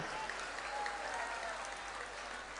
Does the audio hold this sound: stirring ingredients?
no